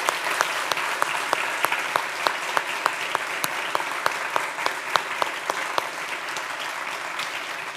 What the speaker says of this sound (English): I would like to give you all a huge round of applause for all of your work.